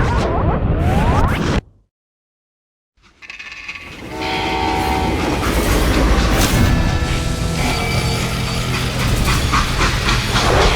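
A loud rumbling freight train in the video game Call of Juarez: Gunslinger, with a horn-like tone, cut by a brief silence, then a heavy continuous rolling clatter swells back up.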